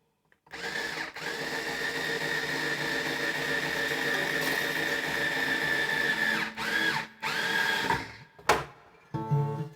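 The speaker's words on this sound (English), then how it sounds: "We're going to go ahead and use the wrench again and tighten this up." A wrench working on an acoustic guitar while its strings are tightened gives a steady, loud, whirring buzz, like a power tool, for most of the clip. It breaks off into a few short bursts near the end, with no talk.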